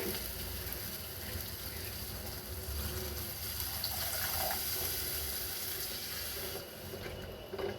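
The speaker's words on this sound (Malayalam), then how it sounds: "ഇതിലേക്ക് വെള്ളം ഒഴിക്കും" Water poured into a cooking pot holding a homestyle curry of dried prawns, jackfruit seeds and raw mango, a steady, fairly quiet splashing rush lasting several seconds with no talking.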